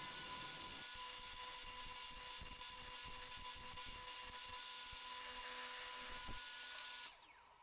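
Table-mounted router cutting a groove in wood, a steady close high whine with a cutting rasp, continuous for about seven seconds before the motor winds down.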